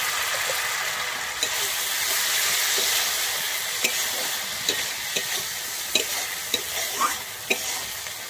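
Poppy seed and mustard masala for pabda fish sizzles loudly in a pan after water is poured in. A spatula scrapes and taps in a loose rhythm, the clicks growing sharper toward the end. Nobody talks.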